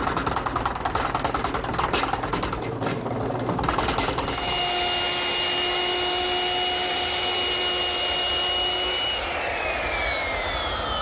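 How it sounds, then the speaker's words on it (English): A drill fitted with a 2-inch Forstner bit bores into the end of a pressure-treated wood rafter for a garden gate. It makes a steady, loud whine with a rough cutting texture at first, then a smoother sustained hum, with no talk. "I'm using a 2-inch Forstner bit to make a decorative cut on the end."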